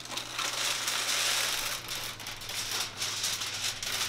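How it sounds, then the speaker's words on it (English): Aluminum foil crinkles and crumples as it is pressed over an unstuffed vegan cabbage dish, a close, continuous rustling with no talk. "Cover it with foil."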